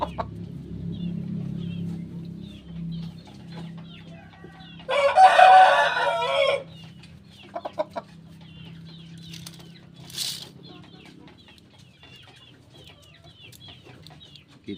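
Chickens clucking and a rooster crowing on a farm, with soft scattered clucks throughout and one louder burst of crowing in the middle, fairly near, with no talk.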